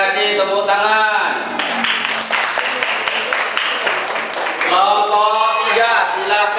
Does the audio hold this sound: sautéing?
no